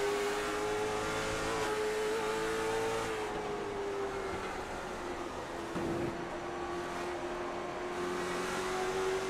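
Race cars roar around a track at a night race under the lights, a sustained engine drone with a gradual pitch change and a nearby car passing midway, steady and fairly loud with no talk.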